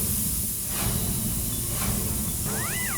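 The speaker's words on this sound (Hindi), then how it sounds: "दूसरी बज गई।" A pressure cooker hisses steadily with escaping steam, a loud continuous rushing hiss from start to end, and a rising and falling whistle tone near the close.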